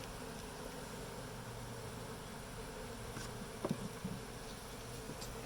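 A honey bee hive in Pilot Point, Texas hums with a steady, dense buzz throughout, the colony agitated, with a couple of brief louder knocks or bumps near the middle.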